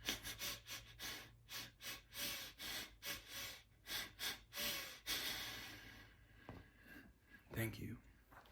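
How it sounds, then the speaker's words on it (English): Rapid rounds of deep breathing, strong rhythmic inhales and exhales about twice a second, close and loud, easing off near the end into quieter sounds. "you do those 3 rounds of 30 breaths"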